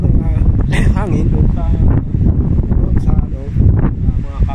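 Strong wind from Cyclone Gabrielle roars and buffets the microphone continuously around a house with plants, with a voice talking over the steady rushing noise.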